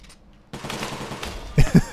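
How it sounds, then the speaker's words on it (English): A full-auto machine gun firing in the Pinstripe video game, a quiet lead-in, then a sustained rattle that ends in a few heavy, punchy close shots. "So, got a gun that shoots as much as I want to shoot."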